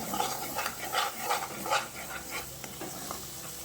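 Mango chutney with salt and spices is stirred in a pan, giving a soft, continuous scraping and faint sizzle at close range, fairly quiet and without speech.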